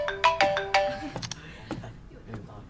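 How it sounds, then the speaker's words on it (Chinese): A phone ringtone for an incoming call sounds in a fitness instructors' meeting: a bright, melodic chime pattern rings out loudly for about a second, then fades into quiet room noise. "接个电话。"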